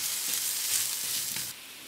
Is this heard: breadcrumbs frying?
yes